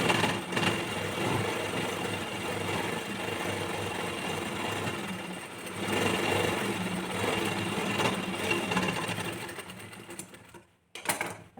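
A sewing machine stitches a line of tucks on a blouse, a steady close whirring hum running for about ten seconds before stopping briefly, then starting up again for a short final burst.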